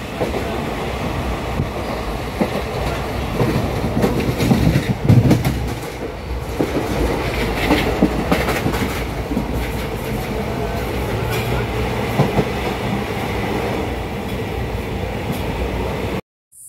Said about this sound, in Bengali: এখান থেকেই আমাদের ট্রেন।